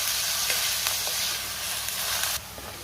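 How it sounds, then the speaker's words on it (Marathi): Sliced onions fry in a pan until golden for spicy chicken sukka, giving an even, close sizzle with occasional stirring scrapes that quiets suddenly near the end, with no talk. "कांद्याला थोडा लाल रंग येईपर्यंत कांदा आपण परतून घ्यायचा आहे।"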